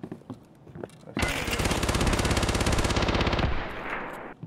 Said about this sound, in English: That guy's shooting from over there.